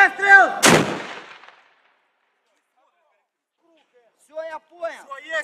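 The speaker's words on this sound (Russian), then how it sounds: "Минор! Выстрел!" A single loud artillery gun blast booms after a shouted voice, its rumble trailing off into silence before voices resume faintly.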